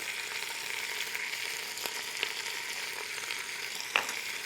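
Onions frying in a pot for caldo de pollo, a soft steady sizzle with a few light stirring clinks and taps, close but fairly quiet.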